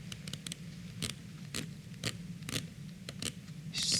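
Crown of a Jaeger-LeCoultre Polaris Mariner automatic dive watch being turned, giving a series of small, close, dry clicks at irregular intervals over a low background hum.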